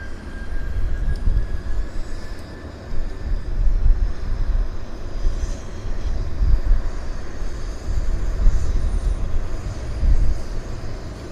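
WestJet flight 868, an airliner, roars along the runway on its takeoff roll, a loud, steady low rumble with gusting wind-like swells heard from outside, no voices.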